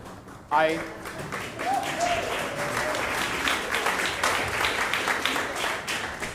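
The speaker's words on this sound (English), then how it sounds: "while your applause is more than deserved" An audience at a community early-music showcase applauds, starting abruptly and continuing as a dense clatter with a few distinct claps, while a voice is briefly heard near the start.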